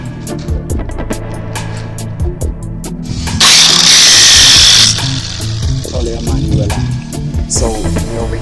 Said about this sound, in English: So we're over here sanding on the other side of the boat